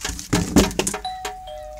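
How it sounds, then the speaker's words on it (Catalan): A doorbell chimes indoors, its clear ringing tone following a few rustling knocks and bumps, with the ding sounding twice and lingering briefly. "Has sonat el timbre, no?"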